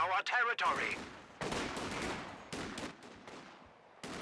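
Video game MG42 machine gun firing in loud, dense bursts mixed with other battle gunfire and explosions, several separate volleys in quick succession, up close and intense.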